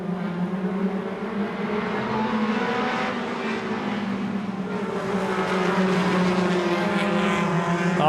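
Short track race cars come off the corner together at a super short track oval, a dense, loud engine roar swelling as they accelerate, with no talk.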